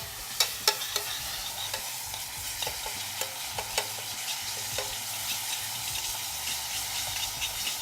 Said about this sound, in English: So I'm going to put that into my syrup and mix it around.